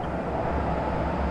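Rumbling French tanks roll forward in the real-time strategy game WARNO: a steady, dense low engine drone with mechanical clatter running continuously at moderate level.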